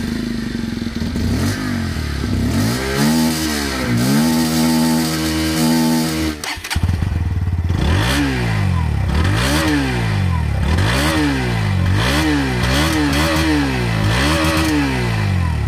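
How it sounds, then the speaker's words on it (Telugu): Two Bajaj motorcycles, a 2024 Pulsar 125 Carbon Edition and an NS125, revving in turn, loud and close: repeated rising and falling throttle blips over a steady idle, with a brief cut in the middle before more rhythmic revs. "ఇక ఫైనల్ గా మనం వీటి యొక్క ఎగ్జాస్ట్ నోట్ విందాం."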